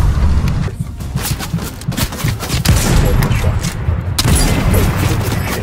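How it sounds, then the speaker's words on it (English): Dense video-game gunfire aimed at the player, with overlapping shots and bursts forming a loud, continuous fusillade over several seconds alongside booming impacts, as a tank appears in the fight. "I'm being shot at"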